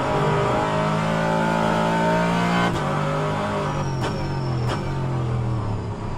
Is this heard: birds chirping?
no